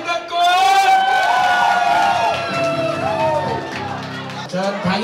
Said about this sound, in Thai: เสียงปรบมือดังๆยาวๆให้กับคุณสัญชัยเอกตระกูล